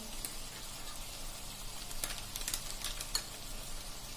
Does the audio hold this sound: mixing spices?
yes